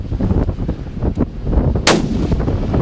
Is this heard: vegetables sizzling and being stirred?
no